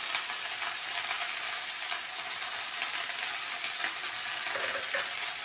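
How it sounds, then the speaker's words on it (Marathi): Drumstick (moringa) leaves sautéing in a pan with salt give a steady, close hiss of frying that holds evenly throughout, with faint scraping stirs and no voices. "याला चांगलं व्यवस्थित परतून घेऊया"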